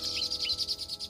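Sparrows (pipit or emprit) in a rice field, raiding ripening rice: a rapid, steady series of high chirps and tweets repeating in quick rhythm, fairly close and continuous.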